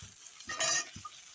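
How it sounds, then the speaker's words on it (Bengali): Potatoes frying in hot oil in a pan, with short scraping stirs and a brief louder burst of sizzle in the middle, close and fairly quiet with no talking. "দেখো আলুগুলো মাখা হয়ে গেল এখন ভাজে নিই"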